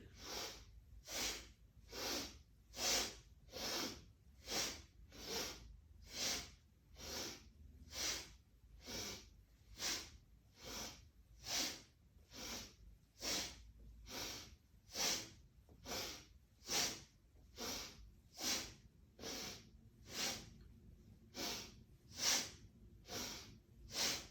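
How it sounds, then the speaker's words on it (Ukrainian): Forceful, rhythmic breaths in and out during a chest-opening yoga exercise, about two per second as a steady run of sharp, close nasal puffs with no talking. "Акцентовано вдихаємо і видихаємо."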